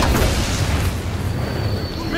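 A grenade blast in Call of Duty WW2, a broad rumbling roar that fills the clip and fades slowly, with game noise behind it.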